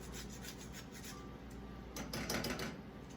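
Nutmeg grated by hand on a grater, quiet rhythmic rasping strokes that repeat steadily, growing slightly louder and denser toward the end, close and alone without talk.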